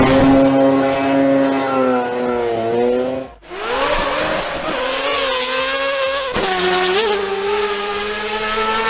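A Mazda RX-8 rotary engine revs loud and close with a buzzy, harmonic-rich note, drops away sharply for a moment, then climbs again through several rising and falling pulls.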